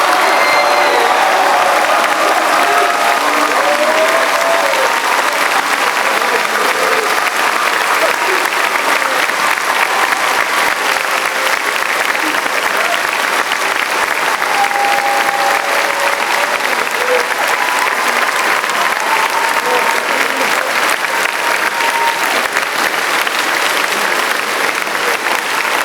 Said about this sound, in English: please join me in applauding these students